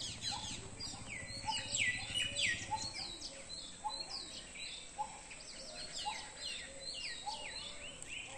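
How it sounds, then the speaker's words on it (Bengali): Many small birds chirp and twitter around an old Shiva temple at Deulghata in Purulia, with quick high calls overlapping steadily against a soft outdoor background and no speech. "পাখিদের কিচিরমিচির শব্দ এই যে পরিবেশটাকে আরো অপূর্ব করে তুলেছে"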